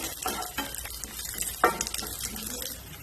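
Onion, cashews and raisins sauté in a pan, with a soft sizzle under scattered scraping and stirring clinks from a utensil, a few sharper knocks standing out.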